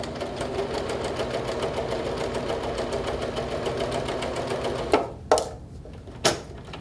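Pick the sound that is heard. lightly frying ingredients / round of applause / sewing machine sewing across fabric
sewing machine sewing across fabric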